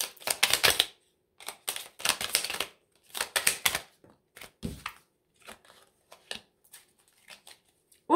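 Tarot cards being shuffled and drawn, with several crisp riffling bursts up close, then lighter scattered flicks and taps as single cards are laid down, in a quiet room.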